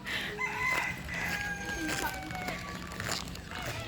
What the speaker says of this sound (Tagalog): Ang dami nilang manok